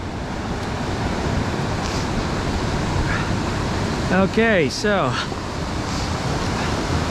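Broad steady roar of high, fast river water rushing through a gorge below a trail at Ohiopyle, continuous and fairly close, with a brief stretch of people talking partway through.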